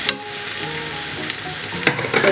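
Punjabi chicken pieces coated in sauce sautéed in a pan, a steady close sizzle with a few brief scraping stirs of a spoon against the pan, no voices.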